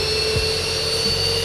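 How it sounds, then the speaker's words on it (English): Simulated Boeing 737-800NG jet engine spooling up during start in X-Plane 11, a steady whine with strong high tonal bands and a low rumble, with a brief rising sweep partway through, close and continuous with no talk. "That's a 737-800NG starting up for you."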